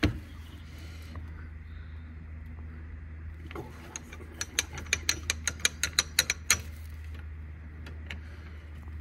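Ratchet wrench working on a stuck front brake caliper bolt of a 2007 Citroen C2 1.6 VTS, a burst of about a dozen sharp, evenly spaced clicks close by over a low steady hum.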